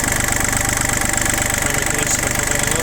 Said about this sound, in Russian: Трехцилиндровый двигатель Исеки